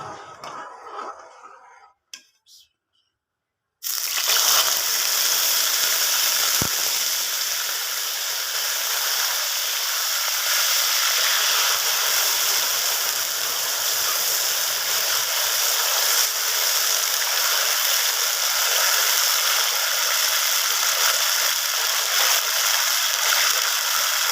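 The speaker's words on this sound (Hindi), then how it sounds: "अब हम इधर पानी डालेंगे" Water hits a hot pan of Makhdi halwa with a sudden loud sizzle that settles into a steady, hissing bubbling and steaming, following a few quieter clinks and stirring sounds.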